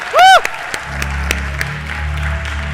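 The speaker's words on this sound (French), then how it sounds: "On l'applaudit, on l'encourage." A church audience breaks into applause, a burst of clapping with a whoop near the start, then scattered claps over a low background rumble.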